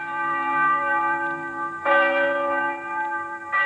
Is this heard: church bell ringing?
yes